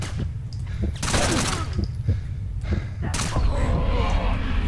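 Gunfire in a 9mm video game, a couple of sharp loud shots with crackling bursts over a dense, busy background.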